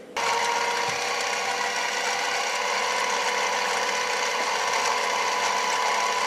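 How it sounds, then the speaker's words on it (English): A countersink bit cuts a small divot in a rifle build part on a V-block, a steady whirring, grinding machine sound running close and constant after an abrupt start. "So I made that little divot right here with the countersink."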